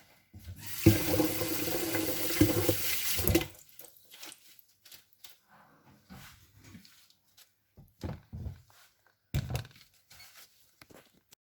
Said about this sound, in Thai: เดี๋ยววิแช่น้ำไปก่อน